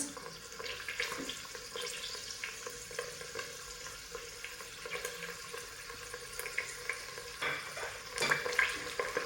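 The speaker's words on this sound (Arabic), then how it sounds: "نرمو دوك البصل تاعنا، نقليوه مليح مليح حتى يذوب" Onions fry in a pan, giving a soft, continuous crackling sizzle with scattered stirring clinks and scrapes, quiet and close, with no voices.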